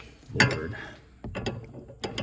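A ratchet clicks in two quick bursts while bolts on the rear suspension of a Tesla Model S Plaid are loosened, heard up close in a cramped space with small metallic knocks between.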